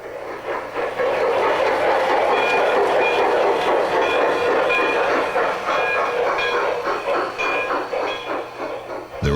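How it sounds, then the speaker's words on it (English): LGB model garden railway trains run at a San Diego showroom, giving a steady rolling clatter with rhythmic clickety-clack of wheels on track and a faint hiss, loud and continuous throughout, with no voices. "But if model trains is your passion"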